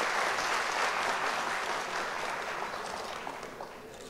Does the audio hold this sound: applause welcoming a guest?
yes